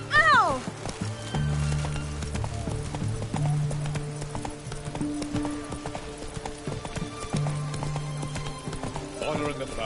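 Galloping horse hooves from The Witcher 3 drum in a steady rapid clip-clop throughout, close and prominent, layered with game music tones and a brief whinny near the start.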